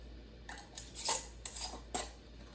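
A metal lid set onto a glass canning jar of fresh pineapple, a few quiet, close metallic clinks and scrapes spaced out over a couple of seconds, with no talk.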